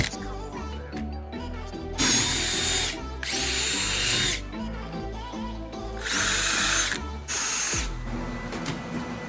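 A power drill bores out rivets on a Sea-Doo jet ski, its whine rising in loud bursts of a couple of seconds each amid ratcheting mechanical rattle, repeated several times at close range.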